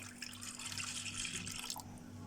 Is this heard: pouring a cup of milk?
yes